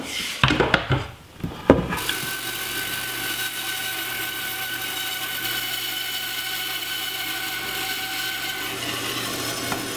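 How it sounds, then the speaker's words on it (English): A bandsaw cuts a board of walnut or zebrawood for a modern chair, a steady close whirring cut running for most of the stretch after a couple of seconds of knocks and handling. "I'll make this cut with the bandsaw."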